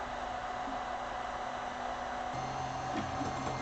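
Anet A8 Plus 3D printer starting a print after a broken throat was replaced, giving a steady, loud broadband mechanical whir with a low hum that shifts pitch partway through, with no talking.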